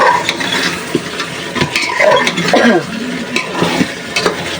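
Meat curry with potatoes stirred and sautéed in a pan, with a steady sizzle, scraping spoon strokes and occasional clinks of metal, close and fairly loud.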